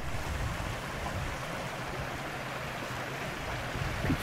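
Forest stream in the Ardennes cascading over stones, a steady broadband rush of flowing water that stays even and continuous throughout, close and moderately loud with no voices.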